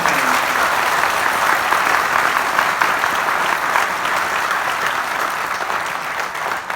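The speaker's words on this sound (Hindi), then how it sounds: "जोरदार तालियों से नमन करें" A large audience at a comedy show breaks into loud, dense applause that holds steady throughout.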